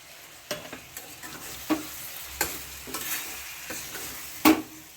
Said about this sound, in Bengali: চিনি দিয়েও ভালো করে নাড়াবেন